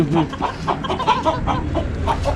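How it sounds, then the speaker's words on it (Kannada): Fancy chicken breeds, such as the crested Polish cap, at an animal theme park, clucking in quick, close bursts one after another, with a faint voice in the background. "ಇಲ್ಲಿರುವಂತದ್ದೆಲ್ಲ ಆಲ್ಮೋಸ್ಟ್ ನಿಮ್ಗೆ ಫ್ಯಾನ್ಸಿ ಚಿಕನ್ಸ್"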